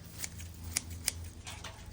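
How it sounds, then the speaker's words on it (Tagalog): Scissors trimming plants outdoors, giving a few sharp snipping clicks spaced irregularly over a low steady background hum, close and fairly clear with no talk. "kinawa na akong gunting"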